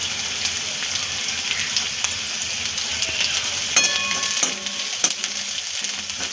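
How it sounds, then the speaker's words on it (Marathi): Sliced onion and vertically cut cabbage sauté over a low flame in a pan for street-style cabbage manchurian, giving a steady, even hiss with a few brief scraping clicks near the end. "कांदा परतत असताना त्यामध्ये आपण थोडासा कोबी पण टाकायचा जो उभा चिरून घेतला होता।"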